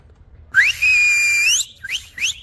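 A person whistles a few clear, shrill notes: a rising slide, one long held tone, then two short upward chirps, with no talking.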